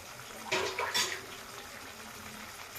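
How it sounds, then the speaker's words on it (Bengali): Cups of water poured into a pot of Bengali fish curry with drumsticks, potatoes and lentil dumplings, a brief splashing gush near the start followed by quieter trickling and low kitchen background. "আরও দিয়ে দেব দু কাপ জল"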